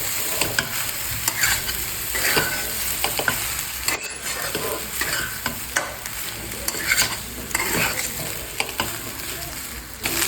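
Cooked rice being stirred and mixed with fried egg in a hot pan, a steady gentle sizzle with repeated scraping stirs of the spatula throughout, close and clear with no talking.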